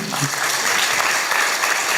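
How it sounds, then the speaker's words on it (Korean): Lecture hall audience of university students in Gwangju clapping, a dense even patter of applause filling the short moment at steady loudness. "박수 주세요"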